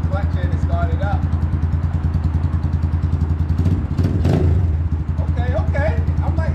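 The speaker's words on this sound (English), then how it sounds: "It's idling really nice and smoothly." An SSR 150 dirt bike engine idles close by with a steady, rapid thumping rhythm and a brief rev partway through, while people talk over it.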